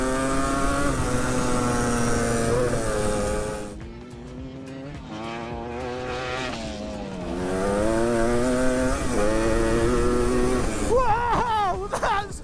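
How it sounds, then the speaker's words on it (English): An ATC all-terrain three-wheeler engine revs loud and close, its pitch climbing and falling through repeated throttle blips, easing briefly midway before surging again, with a shout near the end. "I'm riding an ATC!"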